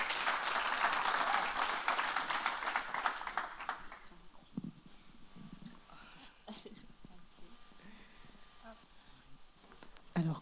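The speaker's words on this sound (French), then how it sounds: "Applaudissez-la." Steady applause from a church gathering's crowd welcoming a speaker fills the first few seconds, then fades into scattered claps and quiet murmuring.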